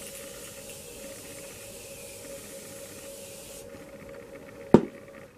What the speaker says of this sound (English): I'm gonna go in with the Morphe Continuous Setting Spray